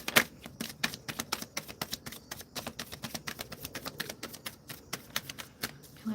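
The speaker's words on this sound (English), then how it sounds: "Okay, I'm shuffling for key." Tarot cards being shuffled during a live reading, a quick, steady train of crisp riffling clicks that repeats in regular bursts, fairly close and quiet with no talk over it.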